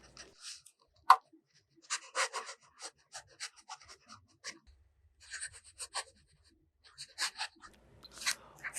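Fountain pen with a music nib scratching across paper in short, quiet strokes with pauses between letters and words, close and alone in a still room.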